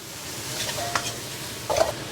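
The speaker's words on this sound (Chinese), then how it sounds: "大火翻炒均匀" Duck intestines stir-fried over high heat in a wok with Sichuan doubanjiang, Sichuan peppercorns and aromatics give off a steady loud sizzle, with a couple of scraping tosses of the spatula near the middle and end.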